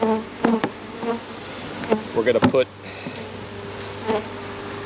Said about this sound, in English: Now the bees are ready to come out.